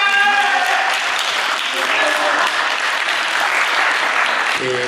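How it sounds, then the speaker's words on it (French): A studio audience applauds loudly and continuously for a competing couple on a French television game show, a dense wash of clapping with faint voices and cheers underneath. "vous pouvez l'applaudir"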